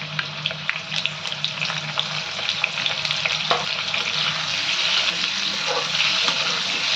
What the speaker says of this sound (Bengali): তেলটা গরম হয়ে গেছে, আমি এবারে আলুগুলোকে একটু ভেজে নেবো।